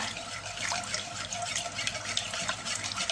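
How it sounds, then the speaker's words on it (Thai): Plain water pours steadily into a pot for coconut agar jelly with coffee, a continuous close splashing stream without pause. "ใส่น้ำเปล่าลงไปเลยนะคะ"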